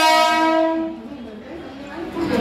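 A train at a suburban railway station in Thane, Maharashtra, sounds a loud, close horn blast that fades into rumbling station noise.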